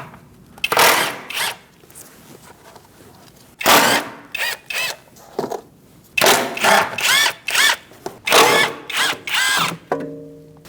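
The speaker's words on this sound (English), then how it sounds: "Using a 10mm socket, we're going to remove those now." A power tool fitted with a 10mm socket spins off fasteners while front ABS wheel speed sensors are replaced on a 2008-2014 Mercedes-Benz C300. It gives a series of close, sharp whirring bursts with brief pauses between them.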